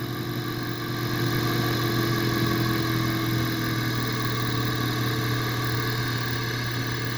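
Engine idling steadily with a Mallory dual-point distributor fitted, a close, even, continuous hum with a constant low tone and no talk.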